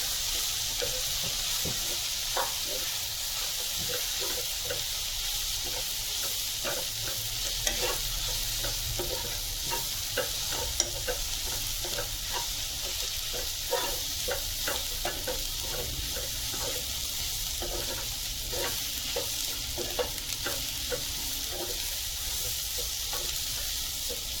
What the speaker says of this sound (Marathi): तर हे आपण सुकं खोबरं घेतलं आहे किसलेलं तर हे आपण वेगळं भाजणार आहोत